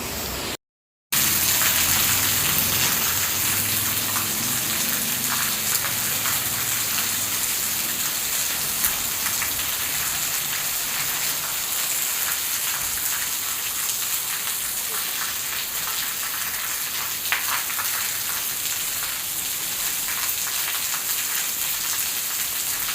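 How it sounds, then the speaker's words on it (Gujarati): Heavy rain falling steadily, a dense, unbroken hiss of drops on surfaces that holds loud and even throughout, with a few brief louder spatters near the end. "વરસાદ આજે સારો એવો આવી ગયો. લગભગ 11 વાગ્યાનો ચાલુ છે વરસાદ"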